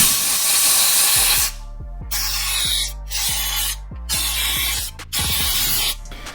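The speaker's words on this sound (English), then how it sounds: "Then I'm gonna spray some air" Compressed air blasting dirt out of the stud holes of a BMW wheel hub, loud close hissing bursts in several pulses separated by short gaps, with low mechanical tones underneath.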